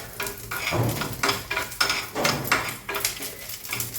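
Grated coconut sizzles in hot ghee while a spoon stirs and scrapes the pan, giving repeated scraping strokes over a steady frying hiss, with no voices.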